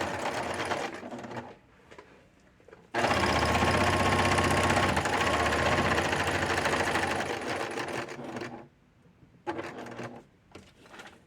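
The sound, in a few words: sewing machine stitching paper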